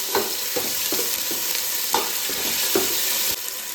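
Ginger paste frying in hot oil for a mutton curry, a loud, steady crackling sizzle with repeated soft stirring scrapes about every half second, close up and with no talk.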